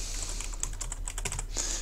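Typing on a computer keyboard, a quick irregular run of close, crisp key clicks with a brief burst at the end, heard alone with no talk.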